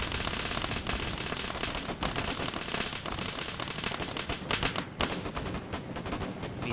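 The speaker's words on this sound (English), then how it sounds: "we also have the Mi-24 coming in now. I think it's going to end up dumping all of its ammo into this." Mi-24 helicopter guns in Arma 3 pour out sustained automatic fire, a dense unbroken rattle of rapid shots lasting throughout, loud and continuous with a few sharper bursts.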